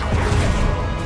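Confringo fire spell cast in Hogwarts Legacy gameplay, a single loud, dense crashing blast that fills the whole brief moment.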